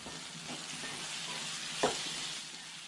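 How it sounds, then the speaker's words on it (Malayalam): Masala with chili powder and a teaspoon of pepper powder is sautéed in a pan for boti curry. A soft, even sizzle holds throughout, and a single brief stirring scrape stands out midway. "എന്നിട്ടൊന്ന് വഴറ്റി കൊടുക്കാം"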